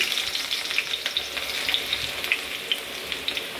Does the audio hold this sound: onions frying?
yes